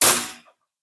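A single sharp shot from a Tharynx Gen1 air rifle, loud and close, with a quick decaying tail and nothing after it.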